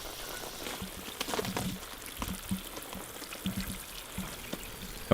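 Leftover bath water pours onto a garden from a container, a soft, steady splashing and trickle with scattered drips, faint and close.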